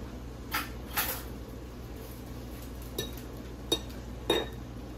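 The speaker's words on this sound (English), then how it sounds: "I'm gonna go ahead and grab a fork" A metal fork is picked up from among kitchen cutlery, giving several short, light clinks and taps spaced across a quiet room with a steady low hum and no talk.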